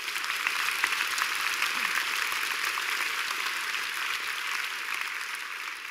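A church congregation claps hands together in a dense, continuous wash of applause during a sermon, steady and even in loudness from start to finish, with no voices on top.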